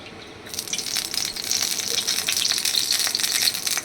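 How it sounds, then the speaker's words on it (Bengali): Cooking oil gushes into a kadai ahead of frying fish, starting after a short quiet moment and turning into a steady, close hissing pour that lasts to the end. "এবার কড়াইতে দিয়ে দিলাম তেল"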